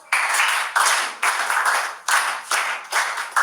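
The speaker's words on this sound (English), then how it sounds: "Please give him a big round of applause." Classroom applause for a student, several bursts of clapping from a group of students, each roughly half a second long and separated by brief pauses, close and fairly loud.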